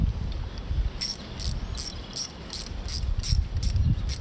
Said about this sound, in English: And we take our ratchet